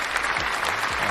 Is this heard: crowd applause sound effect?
yes